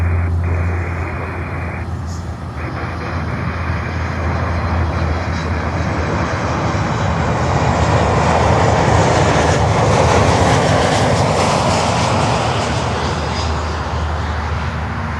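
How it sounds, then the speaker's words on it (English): American Airlines Boeing 737 Max 8 jet on runway 9 at Miami airport, a building broadband engine roar that swells to a loud peak midway and then eases, with a low steady hum underneath. "Next one also American Airlines with a Max 8."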